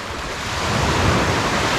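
Surf at a sunny beach where many boats are parked, heard as a steady broadband wash of waves and wind that swells slightly louder partway through, with no voices.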